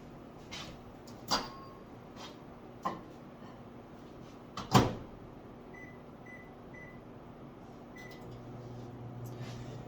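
Microwave oven heating a Huel hot instant meal cup: a few sharp clicks from the door and buttons, a short run of electronic beeps, then a quiet low hum as the oven starts running.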